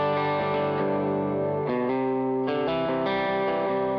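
Electric guitar with a clean amp tone, a few sustained chords and arpeggiated notes ringing close and smooth over about four seconds, with no talking.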